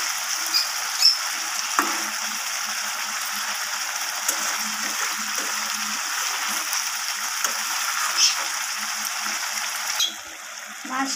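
Rohu fish and potato pieces stir-fried in a spiced pan, a steady broadband sizzle holding throughout with occasional scrape clicks, continuous and close, thinning briefly near the end.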